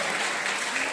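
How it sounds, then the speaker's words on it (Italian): Applause from an audience for a singer at a recital, steady dense clapping from a full room, loud and continuous over a brief moment. "quindi un doppio applauso, perché ha cantato da uomo e da donna"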